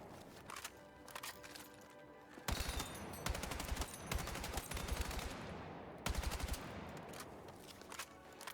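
Assault rifle gunfire in the video game Battlefield 6, with rapid automatic bursts of sharp shots and several pauses between bursts, loud and close, with no talk.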